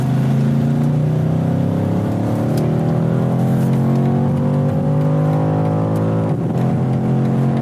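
A BMW Alpina SUV launches hard, its engine roaring loud and steady with rising pitch as it accelerates, close and continuous throughout.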